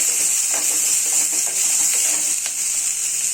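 Chicken curry masala with tamarind frying in a pan, a steady bright sizzle with faint stirring scrapes and small clinks throughout.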